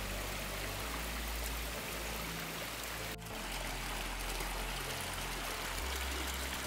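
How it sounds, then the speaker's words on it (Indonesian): A steady mountain river in West Sumatra, Indonesia, rushes and flows continuously, broadband and fairly close, with no voices. "Air sungai ini masih tergolong sangat bersih."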